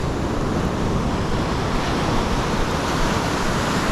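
Wind and ocean surf on a beach in Elliston, South Australia, make a loud, steady broadband rush without clear breaks or separate wave crashes.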